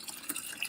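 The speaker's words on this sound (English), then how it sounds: "You rinse it." Water runs and trickles over blood clams as they are rinsed, a short, soft, splashy burst of close running water with no talk.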